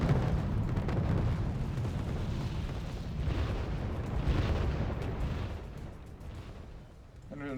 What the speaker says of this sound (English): We got another rocket artillery strike here from Kitty Roffen.